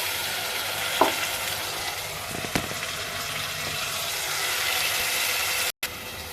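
Chopped onions frying in a pan, giving a continuous loud sizzle with a few stirring knocks and a brief cut near the end; no one speaks.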